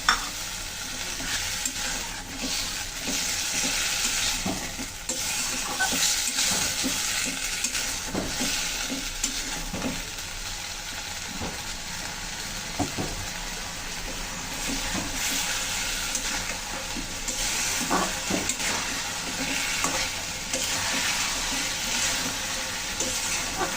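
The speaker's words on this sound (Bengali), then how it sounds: "মশলার বাটি দিয়ে জলটাও দিয়ে দিলাম, দিয়ে সুন্দর করে কষাবো একসাথে।" Spice masala with vegetables and a splash of water being stir-fried in a pan, a steady close sizzle and bubbling with repeated scraping stirs throughout.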